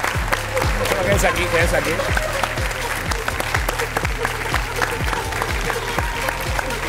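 A studio audience on a Spanish-language late-night talk show applauds in a dense, sustained burst of clapping, with someone speaking briefly over it and a low rhythmic backing running underneath.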